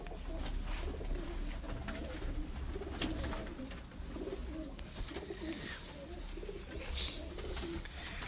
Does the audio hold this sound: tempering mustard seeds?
no